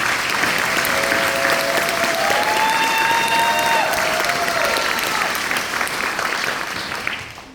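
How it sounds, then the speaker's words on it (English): A graduation commencement ceremony audience applauds steadily in a large hall, dense continuous clapping with faint whistles and cheers, tapering slightly at the end. "Let's give another round of applause for Megan."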